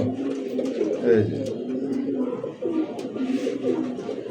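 Caged pigeons, including Bombay satin racer types, coo in soft, repeated low throaty rolls, close by and continuous, with faint voices in the background.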